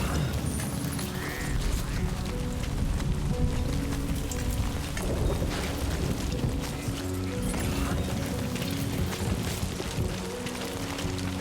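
Steady rain pours down in the Death Stranding 2 video game, a dense, continuous patter with occasional low booms, layered under soft tonal music throughout.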